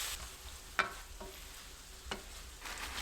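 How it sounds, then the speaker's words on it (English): Ground beef with sautéed onion, cumin, chili flakes and black pepper is stirred in a pan, giving a couple of distinct scraping strokes over a steady low sizzle, close and fairly quiet, with no talking. "Give it a good mix."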